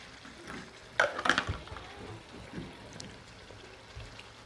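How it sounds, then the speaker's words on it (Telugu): Water poured from a container into a pan of brinjal chutney on the stove: a short, fairly quiet splashing burst early on, then soft low background. "ఇప్పుడు ఈ డబ్బాలోనే కొంచెం వాటర్ యాడ్ చేసుకొని"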